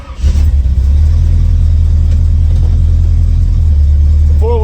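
A 1955 Chevy's engine rumbles loud and steady up close as the car pulls away, its deep, even drone holding throughout with a slight swell near the start.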